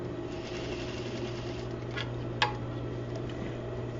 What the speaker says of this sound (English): I'm going to stitch my bound buttonhole right according to your tailor tacks